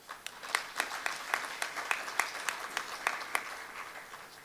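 Scattered clapping from a small conference audience, sparse distinct claps in an irregular rhythm, fairly faint and without talk.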